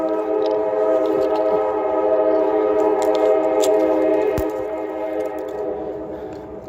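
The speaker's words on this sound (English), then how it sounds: "Here comes that train again." A train rolls through snowy West Virginia mountains, its horn sounding a sustained chord of several steady tones over the low rumble of the cars, loud and close before easing slightly toward the end.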